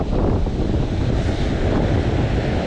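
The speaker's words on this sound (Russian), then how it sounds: "ну ветер что-то разыгрался" Strong wind buffets the microphone on the Black Sea shore while waves surge and wash in, a loud, dense, continuous roar with no voices.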